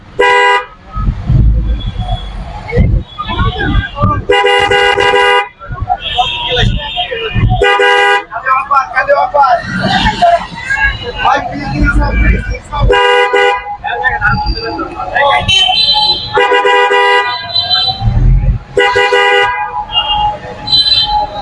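Dense road traffic at the Khilkhet rail gate in Dhaka, with repeated car horn toots, several short honks and longer blasts close by over a steady engine rumble, with voices mixed in.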